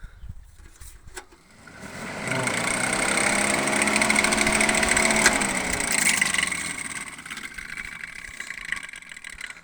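A tractor engine with a cooling fan spins up to a steady whirring roar for several seconds, then winds back down.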